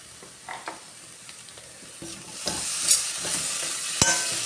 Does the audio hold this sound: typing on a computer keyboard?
no